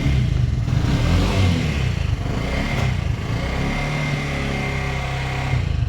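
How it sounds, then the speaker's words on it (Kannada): A Bajaj BS6 engine with a camshaft locker fault runs with a loud, steady, close mechanical drone and a generator-like whine, with slight rises in revs. "ಜೆನ್ರೇಟರ್ ಸೌಂಡು ಇಂಜಿನಲ್ಲಿ ನೋಡಿ"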